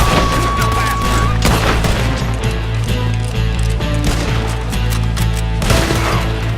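Sustained gunfire in Red Dead Redemption 2, a dense barrage of rapid shots and booms layered over a loud, continuous game soundtrack throughout.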